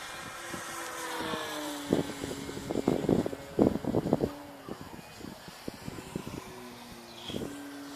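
A HobbyKing F4U Corsair 1400mm RC model plane with a Turnigy G32 770 motor flies at full power, its engine drone rising and falling in pitch as it passes, with wind buffeting the microphone throughout.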